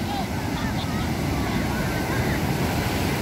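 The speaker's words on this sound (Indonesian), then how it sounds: "Ini dia, ini bagus nih ombaknya nih." Ocean surf breaks and washes at Lampuuk beach in Aceh, a continuous rushing roar mixed with wind buffeting the microphone.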